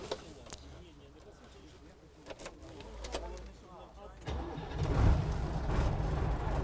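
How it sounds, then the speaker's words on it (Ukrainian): A donated Polish fire truck at a rural fire depot is started: clicks and handling noises come first, then the engine catches partway through and settles into a loud, rumbling idle, with a voice heard along the way. "Запускає машину автомобіля."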